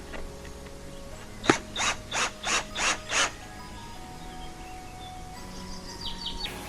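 Screws being tightened to fit an ERMAX windscreen on a Suzuki GSR 750 motorcycle give a close series of five or six quick ratcheting clicks in a steady rhythm, followed by quiet handling noise.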